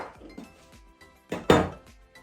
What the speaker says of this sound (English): I'm going to quickly chop the ends off